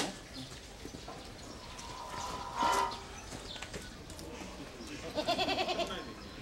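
A goat bleats twice in its enclosure after surgery, short nasal cries separated by a few seconds, with low background rustling and muffled talk.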